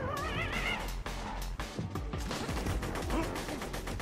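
Gunfire in the video game Borderlands 2, dense rapid bursts of shots and impacts layered over busy game sound effects and music, loud and continuous.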